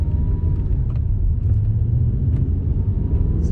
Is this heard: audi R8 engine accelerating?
yes